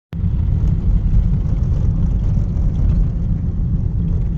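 Three motorcycles roar past at close range on a hunting trip, a loud low engine rumble that starts abruptly and holds steady.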